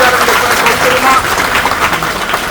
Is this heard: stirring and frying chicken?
no